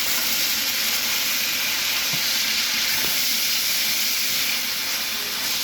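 Beef chunks for a beef stew browning in a pot, giving a steady close broadband sizzle and hiss with a few faint clinks of stirring, no talking.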